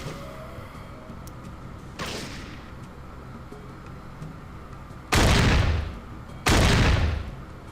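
In the Fallout video game, 14mm pistol fire rings out as sharp, loud cracks: one lighter shot early, then two heavy booming blasts close together near the end, over a low steady background hum.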